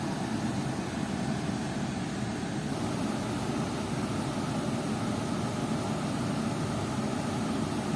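A 2017 car with about 200,000 km on it idles steadily above a thousand rpm, a continuous broadband engine drone with a low rumble, holding even and unchanging throughout, with no talking.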